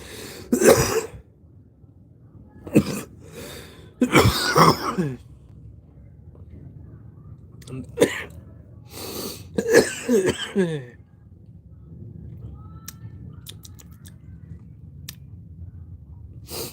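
A man coughs and clears his throat in several separate bursts, loud and close, spaced out over the stretch with quiet pauses between them.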